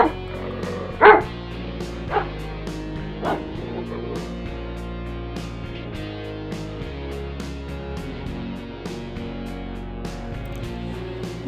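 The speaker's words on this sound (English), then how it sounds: "Dog." A dog barks a few times in sharp yips over background music, with the loudest bark near the start and softer ones following.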